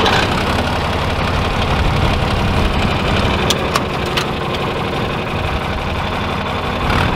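A farm tractor engine runs steadily at idle, a loud continuous low rumble lasting throughout with a few faint clicks on top and no talking.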